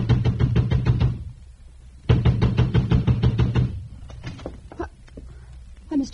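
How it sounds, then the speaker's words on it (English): A fist pounds hard on a front door in two loud, rapid bursts of heavy knocks, close and resonant, separated by a short pause and followed by a few quieter knocks. "I ran to the front door and began pounding it."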